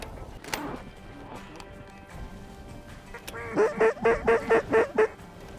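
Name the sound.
flock of mallard ducks quacking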